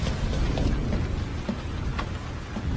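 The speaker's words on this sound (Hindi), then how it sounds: "सर बारिश बहुत तेज हो रही है" Heavy rain pours down in a steady, dense hiss that fills the whole stretch, with a few faint knocks and splashes mixed in and no voices.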